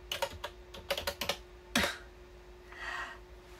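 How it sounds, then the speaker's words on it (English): Quick bursts of typing on a wireless keyboard, a few clustered keystrokes then a single louder key press, followed by a soft rustle; close and fairly quiet. "you just type that in on the keyboard"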